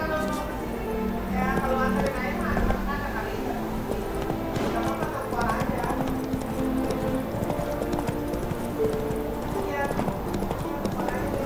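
Roach the horse in The Witcher 3, hooves clip-clopping steadily under music and some background voices throughout.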